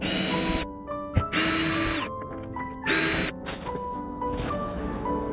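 A power drill backs screws out of the mirror door panel on a 2021 Toyota RAV4 Prime SE, running in several loud bursts of whirring with short pauses and a sharp knock between them, close to the mic.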